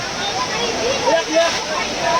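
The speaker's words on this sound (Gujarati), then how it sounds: "પાણી ઉપરથી એટલું જ આવે છે તમે જોઈ રહ્યા છો" Rushing water pours down from above and splashes steadily into the overflowing Damodar Kund at Junagadh, with faint voices of bathers mixed into the roar.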